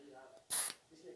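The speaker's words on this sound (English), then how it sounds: "I'm gonna spray it, y'all." Short, loud hiss of a pumpkin pecan waffle scented spray being sprayed once from close by, lasting about a quarter second, with faint speech before and after.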